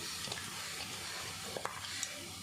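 Masala-coated eggplant sizzling on a hot tawa, giving a faint, steady hiss with a few light scraping clicks over it and no voices.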